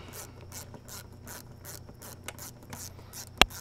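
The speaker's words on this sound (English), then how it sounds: "Now we got this eight millimeter band clamp we just need to loosen off." Ratchet wrench loosening an eight millimeter band clamp on a 2015 Dodge Durango engine, a steady run of close, quick clicking strokes ending with a sharp metallic snap.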